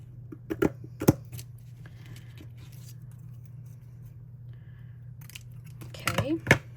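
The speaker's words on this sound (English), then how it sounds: "So I'm going to cut it right about here." Scissors snip through scrapbook paper during card making, a few sharp close cuts near the start and a quick cluster of snips at the end, with a low steady hum underneath.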